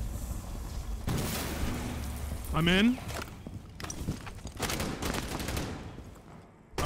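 Rapid gunfire in an online shooter game crackles in dense bursts as C4 charges are shot near the bomb site, mixed with footsteps, game effects and players talking over it.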